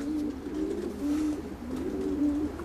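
Pigeons coo in a breeder's loft, a low, rolling, throaty call repeated several times. The cooing is close and moderately loud, over a faint steady room hum, with no speech.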